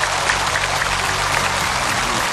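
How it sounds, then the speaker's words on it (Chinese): A studio audience on a Chinese medical talk show claps steadily to welcome a guest doctor. The applause is dense and continuous, with a low musical hum beneath it. "让我们掌声有请贾主任。"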